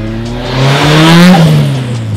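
Drift car on a race track revving hard, the engine note rising to a loud peak and then easing off as the car drives close by.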